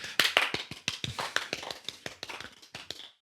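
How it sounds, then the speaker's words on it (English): A small group claps in a brief round of applause, sharp separate hand claps landing close together and fairly near, with no one talking over it. "Give yourselves a round of applause."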